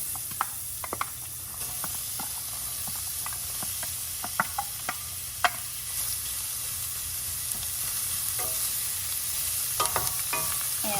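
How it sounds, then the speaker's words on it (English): Onions sauteing in a hot pan for a turkey bolognese sauce, a continuous soft sizzle with scattered clicks and scrapes of stirring, close and steady throughout. "We're gonna saute them for about 3 minutes, get them nice and translucent."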